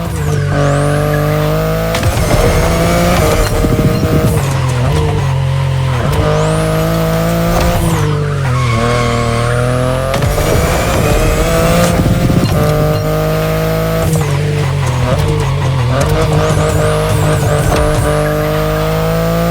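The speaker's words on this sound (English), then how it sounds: "the i8, the sports car you're driving" A BMW i8 sports car driven in The Crew Motorfest racing game, its engine loud and close, revving up and shifting repeatedly, with tire squeal and skidding through corners.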